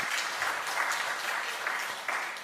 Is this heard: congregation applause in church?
yes